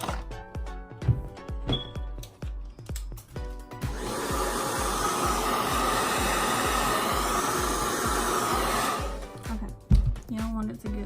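A handheld blow dryer is aimed at wig glue for about five seconds, a steady loud whoosh in the middle of the recording, bracketed by close tapping and handling noises.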